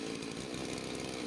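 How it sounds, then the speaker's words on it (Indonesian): A chainsaw is run as part of a disaster-readiness check for storms and fallen trees, its engine droning continuously and loudly at close range with no speech. "PMI Kabupaten Pekalongan juga mengecek kesiapan senso atau gergaji mesin agar siap dipakai apabila terjadi bencana angin kencang dan pohon tumbang"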